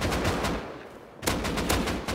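Rapid gunfire in the Rust video game, a dense stream of shots that fills the first half, drops out briefly, then resumes as repeated loud bursts with no one talking.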